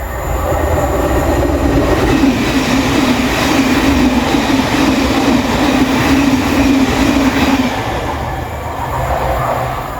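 A train at Hadley Wood railway station, a four-platform Great Northern line stop, rumbles loudly and steadily with a sustained tonal whine of wheels and motors for most of the stretch, then eases slightly toward the end.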